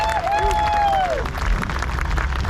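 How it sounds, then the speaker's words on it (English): Festival crowd at an adventure bike rally arena cheering and applauding loudly for a rider, dense clapping with a whistle and shouts rising over continuous crowd noise. "Give him a cheer for Jake Eady!"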